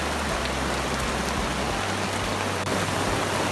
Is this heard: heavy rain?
yes